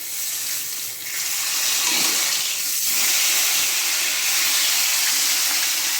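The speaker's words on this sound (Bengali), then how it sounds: "মাছের একটা পাশ ভাজা হয়ে যাচ্ছে, এখন মাছটা আমি উল্টে দেবো।" A katla fish fries in a pan at home, giving a steady broadband hiss and sizzle of hot oil that holds close and fairly loud throughout, with no talking.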